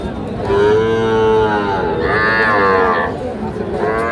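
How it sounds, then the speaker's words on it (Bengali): Young bull and heifer calves moo repeatedly at Ambari cattle market, with long, loud, drawn-out calls one after another and a busy crowd murmuring beneath them. "আমরা এখন কিছু ষাঁড় বাছুর দেখাবো আপনাদের।"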